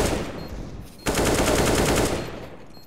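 Rapid bursts of Glock pistol fire in CS:GO gameplay, loud and close, opening with a sharp onset and continuing as a dense, rattling string of shots for nearly two seconds before tapering off.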